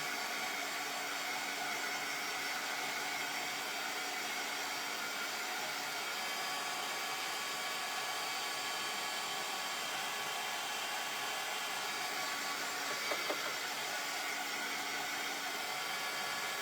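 A hair dryer blows steadily on homemade cinnamon and nutmeg ornaments, a constant close whooshing hiss filling the whole stretch, with a faint brief knock near the end.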